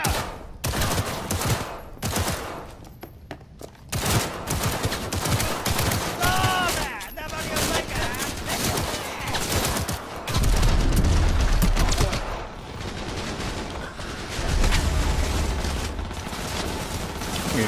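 Gunfire in Cyberpunk 2077: dense, sustained volleys of shots coming from several directions, with rapid bursts and heavier booming impacts layered throughout, loud and near, plus a brief bit of talk mixed in.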